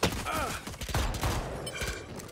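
Rapid bursts of video game gunfire crackle in close succession, several sharp shots stacked over a few seconds with a busy in-game background.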